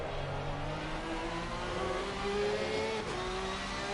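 Porsche race car in Assetto Corsa Competizione at Hungary, its engine droning steadily with rising and falling pitch as it works down through the gears, loud and continuous with no voices.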